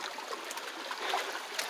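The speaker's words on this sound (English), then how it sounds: "now Kane's following me in the water" Continuous splashing and trickling water with soft sloshing as a dog wades through a shallow stream, steady and close.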